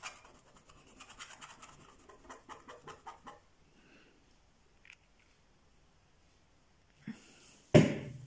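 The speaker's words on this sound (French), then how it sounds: "je vais gratter tout l'intérieur du gant" Inside of a glove being scraped in a quick run of rhythmic rasping strokes, fairly faint and close. Near silence follows, then a sudden loud rustling bump at the end.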